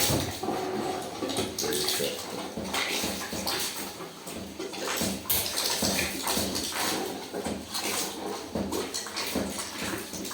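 Water pours and splashes continuously out of a radiator as it is flushed with a machine, a loud, rushing, uneven gush that goes on for the whole stretch with no talk over it.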